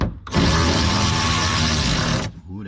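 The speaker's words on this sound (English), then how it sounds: "We got power tools around here." A power tool whirs in one loud, steady, drill-like burst of about two seconds, starting and stopping abruptly during the teardown of a G35 parts car.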